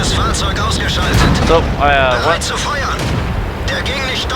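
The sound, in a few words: tank cannon firing in World of Tanks video game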